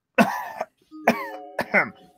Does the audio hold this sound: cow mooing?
no